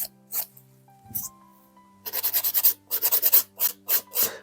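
Short rasping strokes of a file on the free edge of a polygel nail, a few scattered scrapes followed by a fast rhythmic run of close, crisp strokes.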